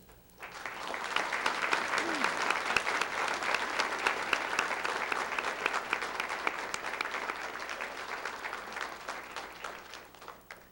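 A school audience applauds faculty, staff, the cafeteria manager and the custodian at an elementary school dedication, a steady dense clapping that rises quickly and holds for about ten seconds before tapering off.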